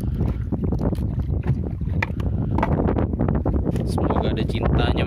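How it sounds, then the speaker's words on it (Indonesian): Strong wind roars at sea during a night fishing trip from a boat, a loud, continuous buffeting rush with gusty surges that fills the whole stretch without pause. "Cuaca nih angin ribut banget."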